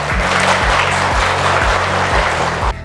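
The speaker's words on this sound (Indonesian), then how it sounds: "Ya, tepuk tangan dong." A class in an online lecture applauds students who answered a quiz correctly; dense, steady clapping fills nearly three seconds over a rhythmic low musical backing, then cuts off sharply.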